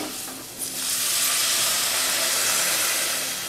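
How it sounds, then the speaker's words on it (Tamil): Water poured into a hot pan of spices, chilli powder, turmeric and salt, for puli kuzhambu, giving a loud, steady hiss and sizzle that swells after a brief dip and holds close and unbroken. "ஒருக்கா நல்லா மிக்ஸ் பண்ணிட்டு தண்ணி ஊற்றிக்கலாம்."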